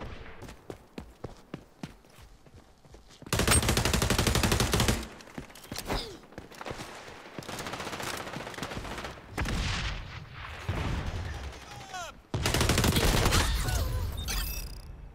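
MP7 submachine gun fire in the shooter game XDefiant opens with a few spaced single shots, then long rapid automatic bursts in a steady rattle, punctuated by impacts and game effects between volleys.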